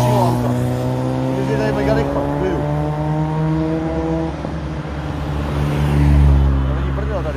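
Several cars speed past on a road in Egypt, loud engine roar swelling and fading as each vehicle passes close by, with another pass building near the end.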